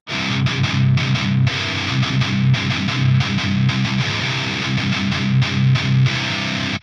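Loud, saturated electric guitar through a Rev G4 pedal boosted by an Aris Effects Parallel Overdrive, playing tight, chunky palm-muted chugs with overdriven crunch, continuous and close with brief rhythmic gaps.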